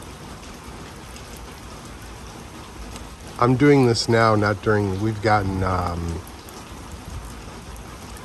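Steady rain falls in rural central Vietnam, a constant hiss of drops on surfaces throughout, with someone speaking briefly over it in the middle.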